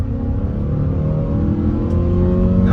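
A 2022 Mazda CX-5 accelerates along an open road, a steady mid-pitched engine drone with a gently rising tone alongside road and tyre noise, heard from inside the cabin with no talk.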